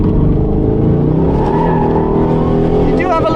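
An Aston Martin Vantage with carbon ceramic brakes in third gear, drifting sideways through a turn: a loud, continuous engine roar that rises and wavers, with tire noise near the end and a voice speaking over it.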